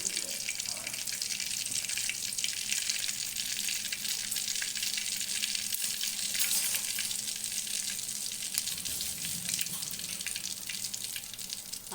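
Fennel seeds frying in hot oil for a mixed-vegetable kootu give a steady, dense crackling sizzle that runs unbroken at an even level, with no talking over it.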